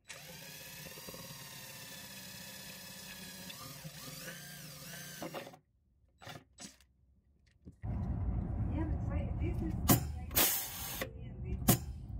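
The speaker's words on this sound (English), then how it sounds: "we will drill small eighth inch holes into these" Small eighth-inch holes drilled into blocks for mounting an air suspension leveling system near the airbags: a steady whining drill run for several seconds, a pause with short bursts, then louder, rougher drilling with a few sharp spikes.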